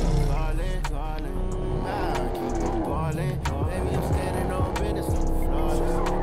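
A Hellcat car drives in Fortnite with a revving engine and repeated tire squeals during skids, while players talk over it.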